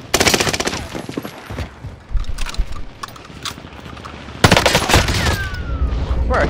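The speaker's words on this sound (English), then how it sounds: "I think it's a bullet" Gunfire in a first-person shooter, heard as loud rapid bursts of automatic fire in two clusters, separated by quieter stretches of scattered shots and background game noise.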